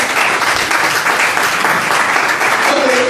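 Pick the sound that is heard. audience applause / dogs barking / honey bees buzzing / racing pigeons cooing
audience applause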